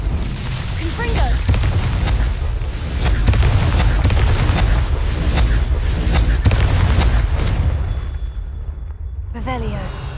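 A Confringo fire spell in Hogwarts Legacy bursts in loud booming explosions with rushing whooshes and crackling fire, dense and continuous before cutting out briefly near the end, then resuming.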